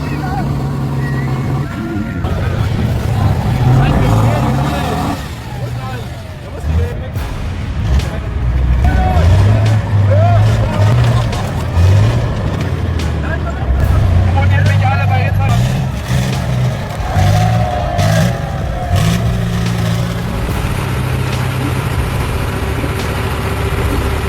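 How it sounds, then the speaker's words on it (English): Heavy engines from a Tatra 813 truck and a Komatsu bulldozer straining in a tug-of-war, a loud continuous low rumble with revving surges that rise and fall throughout, with voices talking over it. "This is a battle between a heavy-duty truck and a dozer, more intense than the Super Bowl"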